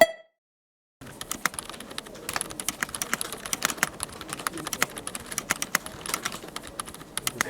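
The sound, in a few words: typing on keyboard with Boba U4 silent tactile switches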